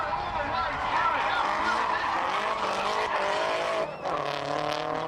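Drift cars, including a Nissan Laurel, slide through a corner together at Oran Park during a national drift event, engines roaring loudly with sustained tyre squeal, while a commentator talks over them.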